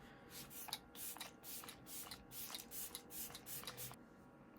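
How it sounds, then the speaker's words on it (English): Rapid short spritzes of makeup setting spray from a spray bottle, a quick run of hissy bursts close by, fairly soft. "to finish off, the Morphe Luminous Setting Spray that we used earlier"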